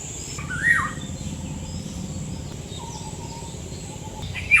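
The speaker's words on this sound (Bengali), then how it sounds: "কি সুন্দর পাখির ডাক সকালবেলা।" Birds calling in the morning countryside near farm fields, a few short chirps and whistles standing out, one near the start and another at the end, over a quiet, faint background hum.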